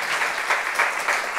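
A brief burst of clapping from a small crowd, steady and dense with slight pulses, no voices on top.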